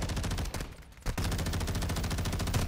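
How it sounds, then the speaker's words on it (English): Rapid automatic gunfire in a video game fires as a dense, loud burst, breaks off briefly and then resumes as a continuous fast rattle. "I shot at him."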